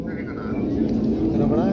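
A jet airliner's engine runs on the runway at the start of a flight to Kuwait, a steady broadband roar and low rumble that holds at an even level throughout.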